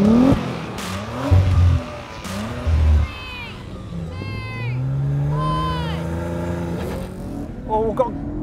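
Several generations of Audi RS4 accelerate hard in a drag race, engines revving and rising in pitch through gear changes, with a voice talking over the engine noise and tire squeal.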